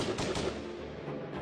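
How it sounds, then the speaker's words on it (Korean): A burst of rapid gunfire, several quick shots in a row, then a fainter rattling volley, sounding distant yet loud, as in a peasant army's battle. "저 멀리에서 요란한 총소리가 울려 퍼지기 시작합니다."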